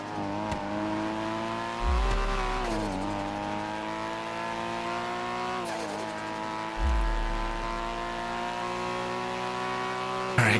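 A 350-horsepower car in a racing video game revs hard, its engine note climbing steadily, dipping briefly at two gear shifts and climbing again, loud and continuous.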